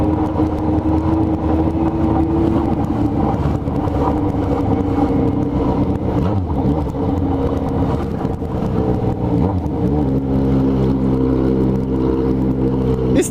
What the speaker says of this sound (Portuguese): Cê é louco, a moto moleque berra demais